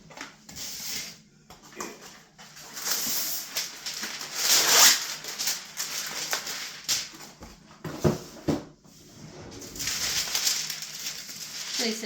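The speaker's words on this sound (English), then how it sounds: "Now we're going to take a piece of parchment paper." Parchment paper being pulled from a roll and handled while making chocolate chip cookies, giving irregular crinkling, rustling and sliding sounds close by, with a sharp tear-like burst midway and no speech.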